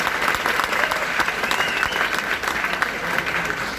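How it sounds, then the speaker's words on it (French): A crowd in a hall at the Institut français du Mali gives a slam poetry act a thunderous round of applause, dense and sustained clapping from many hands that holds steady and loud throughout. "Je voudrais vraiment un tonnerre d'applaudissements"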